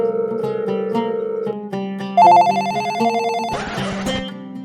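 A mobile phone plays a melodic electronic ringtone, a steady run of bright repeating notes that jumps higher partway through and ends in a noisier buzzing flourish, with no voices over it.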